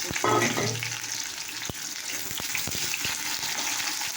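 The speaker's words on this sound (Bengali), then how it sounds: "এখানে তেল দিয়েছি, তেলটা গরম হয়ে গেছে। দেখো, পেঁয়াজ লঙ্কা" Onion and chili hit hot oil with a strong crackling burst, then settle into a steady close sizzle with occasional ticks, while a voice speaks briefly at the start.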